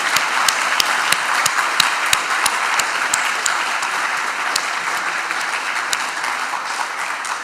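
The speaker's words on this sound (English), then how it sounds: "can we just get a quick round of applause for all the sponsors?" Steady, dense applause from a conference audience thanking the sponsors at JuliaCon, with sharp individual claps standing out over a continuous wash of clapping for the whole stretch, no voices.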